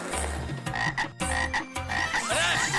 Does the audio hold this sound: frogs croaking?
yes